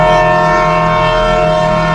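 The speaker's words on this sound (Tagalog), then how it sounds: "biglang may malakas na busina" A loud, sustained vehicle horn blares continuously, steady and close, a heavy truck-like blast sounding alone with no voices over it.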